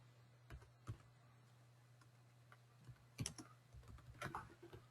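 Computer keyboard typing comes in sparse, quiet clusters of key clicks over a faint steady hum.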